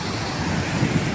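Water rushes and roars steadily at Bhimkund, a dense, close, continuous wash of noise with slight surges, and no voices.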